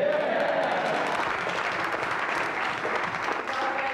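Applause for Margaret Thatcher's speech, a dense crowd of many hands clapping continuously at steady volume, with faint voices mixed in beneath the clapping.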